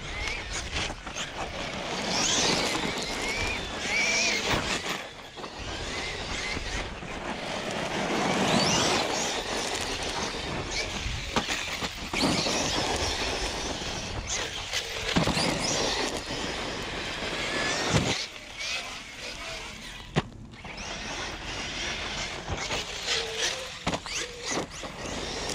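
A Traxxas Sledge RC monster truck running on a 6S battery whines and roars at high pitch outdoors, surging and fading as it speeds away and back, with crunches and bumps from landings and rough terrain.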